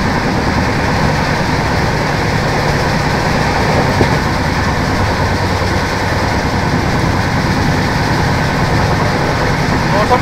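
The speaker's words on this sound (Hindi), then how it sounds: "देखो आप स्टेशन स्किप होते ट्रैक साउंड सुनना भाई, मजा आ जाएगा" A Jan Shatabdi express train (12055, Delhi to Haridwar) rushes through Iqbalpur station without stopping, with a steady loud rumble of wheels on track and a constant rattling roar throughout.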